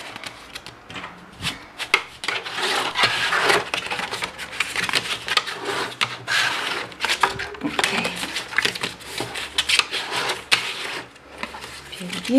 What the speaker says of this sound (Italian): Adesso non farò altro che piegare.